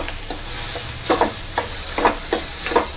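A carrot and egg thoran is stirred in a frying pan, with repeated scraping strokes roughly every half second over a steady, close sizzle.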